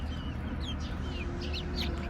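Gurk chickens and a rooster cluck and call in short bursts over a steady low farmyard hum, the birds fairly close and moderately loud.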